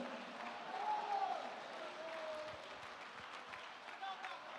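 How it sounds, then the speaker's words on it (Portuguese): A church congregation applauds during a sermon, a soft, diffuse spread of clapping with a raised voice over it early on, fading to a quieter murmur. "Aplauda o Senhor"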